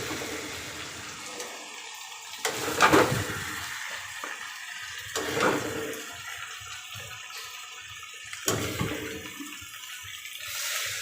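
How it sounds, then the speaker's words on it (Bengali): Water being poured indoors, a gushing splash that swells and fades in a few waves of rushing flow, close and fairly loud, with quieter trickling between the surges. "জল ঢেলে দিব এখন।"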